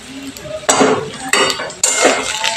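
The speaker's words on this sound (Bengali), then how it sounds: "এবার আমি টমেটোটাকে একটু ভালো করে ভেজে নিচ্ছি।" Tomato fries in hot oil in a pan for a cauliflower curry, with loud metal utensil scrapes and clinks against the pan in three sharp bursts over a soft background sizzle.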